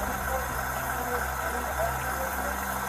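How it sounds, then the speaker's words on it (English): A car engine idles steadily from inside the vehicle, a low continuous hum with a faint, irregular rattle mixed in throughout. "there's some type of rattling, it sounds like, over in here, and then there's obviously your engine"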